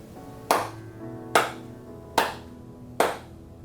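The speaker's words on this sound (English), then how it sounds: "After the prayer, make 1 bow and 4 hand claps." Four crisp hand claps follow a prayer during a home spiritual practice, evenly spaced and sharp, each one ringing briefly in a quiet room.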